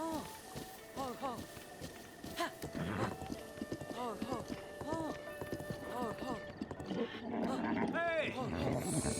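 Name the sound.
horse galloping in the video game Breath of the Wild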